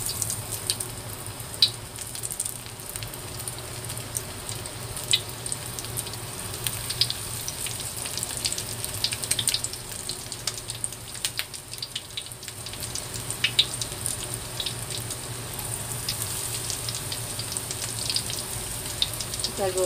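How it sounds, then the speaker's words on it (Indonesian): Pieces of tempeh sizzle steadily in hot oil, a continuous close crackle with small pops throughout, with soft talking beneath. "ketika minyak panas, kita masukkan tempenya tadi ya"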